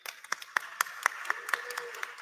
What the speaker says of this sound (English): a round of applause to all our panelists here today